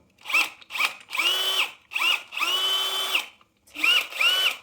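Power drill driving a Clam ice auger drill plate, spinning in several short whining bursts with brief pauses between, loud and close with no talk.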